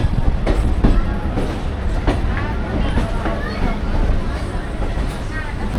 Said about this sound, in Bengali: নির্ধারিত সময় আমাদের ট্রেন কিন্তু শিয়ালদা স্টেশন থেকে ছেড়ে দিল